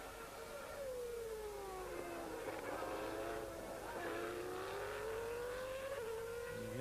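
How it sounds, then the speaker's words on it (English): Alain Prost's Formula 1 car in qualifying at the 1993 French Grand Prix, with a high-pitched engine note rising and falling as traction control cuts in. A commentator talks over it. "You hear the traction control, very high degree of traction control being used here."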